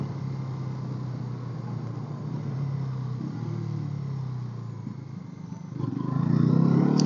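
A car engine drones steadily while driving, then swells louder near the end as the revs rise under engine braking, with a low rumbling hum and rattling cabin noise throughout.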